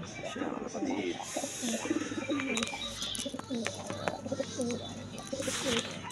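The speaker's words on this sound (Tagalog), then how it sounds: "Silipin natin mga ibon natin kalapatids." Domestic pigeons, including flyer birds, coo repeatedly in a loft, overlapping throaty calls close by with rustling and chirps, while someone talks intermittently over them.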